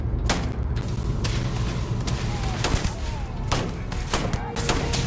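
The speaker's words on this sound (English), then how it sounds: "Where does my gun shoot?" Battle rifle fire in the sci-fi game Dune Awakening, a string of loud sharp shots in irregular bursts over a dense, continuous battle background.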